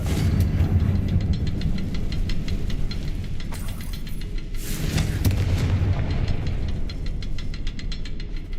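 Spell blasts in a fantasy wizard action game: loud booming explosions with a sustained rumbling roar, two distinct bursts around the middle over a dense continuous low-end wash.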